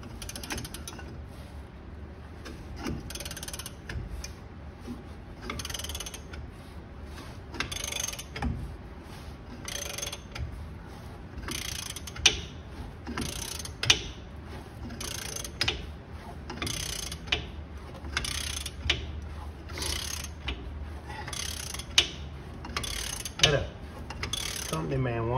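A wrench ratchets loose a rear suspension bolt on a 1965 Thunderbird, a steady run of rapid clicks and creaks lasting the whole stretch, close and fairly loud.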